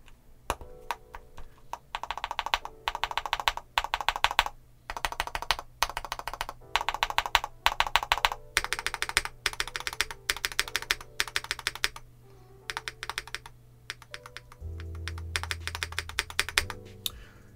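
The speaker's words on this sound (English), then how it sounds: "I'm just doing the stabilized keys real quick." Typing on the stabilized keys of an MMStudio Class80R2 mechanical keyboard: close, crisp clacks in quick bursts with brief pauses, and a deeper thock near the end, with no voices.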